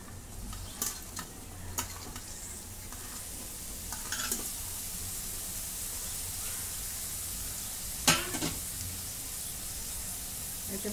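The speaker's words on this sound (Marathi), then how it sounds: "आता जरा परतून घेते. आता हा फ्लावर टाकून घेते." Cauliflower sautés with turmeric in a pan, giving a steady hissing sizzle broken by occasional scrapes and clinks of stirring.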